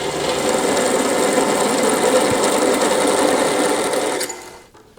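A drill bit on a Vevor benchtop mill opens a hole to 5/16 inch, giving a steady, loud, close grinding whir that holds for about four seconds and then quickly winds down.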